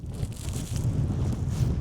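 Wind roars steadily across a mountain summit as a continuous low buffeting rumble against the microphone, close and unbroken, with a faint airy hiss above it and no voices.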